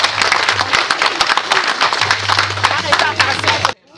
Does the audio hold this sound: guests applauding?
yes